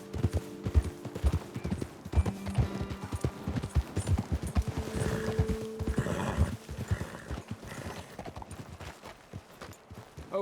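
Horse hooves in the video game Red Dead Redemption 2 clop rapidly and rhythmically over ground, a close galloping beat that continues throughout with a brief horse whinny in the middle.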